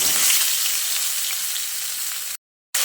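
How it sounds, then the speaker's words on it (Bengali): Pieces of pointed gourd fry in hot mustard oil with a steady, loud, close sizzle that holds evenly throughout, then cuts off abruptly near the end. "তেল ভালোভাবে গরম হয়ে এলে এবার এর মধ্যে কেটে ধুয়ে রাখা পটলগুলো দিয়ে দিচ্ছি।"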